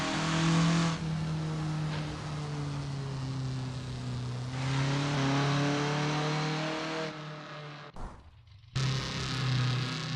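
Formula Ford race cars screaming around Brands Hatch in a sim racing game, a loud sustained engine drone with rising and falling revs and gear changes, briefly cutting out near the end before roaring back.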